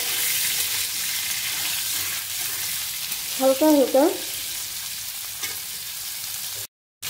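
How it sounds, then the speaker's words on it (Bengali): Cauliflower frying in oil gives off a steady, loud sizzle from start to finish, with a brief spoken phrase near the middle and a short dropout near the end. "এটা তেলের মধ্যে ফ্রাই করতে হবে।"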